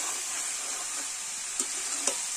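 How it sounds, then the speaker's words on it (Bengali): Mutton frying and being stirred in a pan with chopped onion gives a continuous bright sizzle and hiss, with a couple of soft scrapes or knocks of the spoon near the end, and no voices. "মাংসটা ভালো করে কষিয়ে নেব।"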